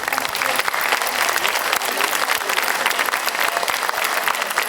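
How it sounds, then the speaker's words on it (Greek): An audience at a celebration gives loud, continuous applause for the event organiser, Mrs. Peloudi, with dense clapping throughout. "Θα ήθελα να δώσετε ένα μεγάλο χειροκρότημα για την υπεύθυνη αυτή της γιορτής"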